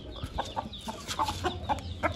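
A Kandhari rooster gives a series of short, throaty clucks in quick succession, close by and moderately loud, with no speech over them.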